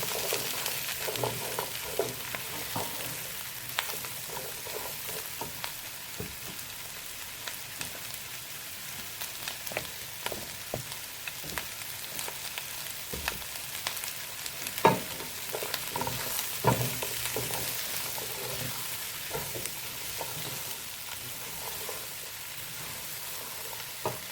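Onions frying on high flame for restaurant-style chilli chicken, a soft, steady crackling sizzle like light rain, with scattered small pops and clicks over a long stretch, no voices.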